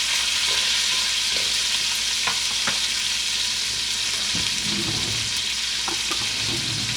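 Steak frying in a hot pan during a steakhouse-style dinner, a dense continuous sizzle with several sharp clicks and scrapes of the steak being turned, close-up with no talking.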